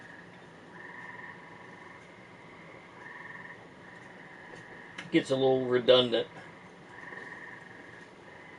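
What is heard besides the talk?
frogs croaking outside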